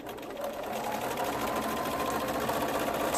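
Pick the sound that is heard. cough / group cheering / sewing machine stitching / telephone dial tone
sewing machine stitching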